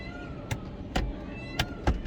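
The electric hand brake of a Tata Harrier XZA Plus being pressed inside the cabin, four short clicks with a faint motor whir behind them, close and quiet with no talking.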